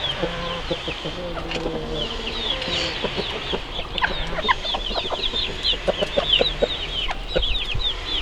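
Several chickens, including a feather-footed hen with her chicks, cluck and chirp nearby, with a rooster call among them and scattered peeping over a continuous outdoor background.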